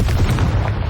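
A Confringo blasting spell erupts in Hogwarts Legacy as a short, heavy boom, close and loud, with a dense low rumble that fills the whole brief moment.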